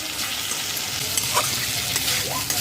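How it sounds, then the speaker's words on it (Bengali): Chicken for a chicken bharta is stirred and fried in a pan over low to medium flame, a loud continuous sizzle broken by clinks and scrapes of a spatula against the pan. "চিকেন দিয়ে লো টু মিডিয়াম ফ্লেমে 5 মিনিট নাড়াচাড়া করে রান্না করে নিয়েছি"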